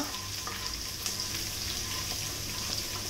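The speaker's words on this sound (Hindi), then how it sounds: "अदरक और लहसुन की कच्ची महक जाने तक हमें इन्हें भूनना होगा" Ginger and garlic fry in a pan with a steady, close crackling sizzle that holds even for a few seconds, with a couple of faint spoon scrapes and no talking.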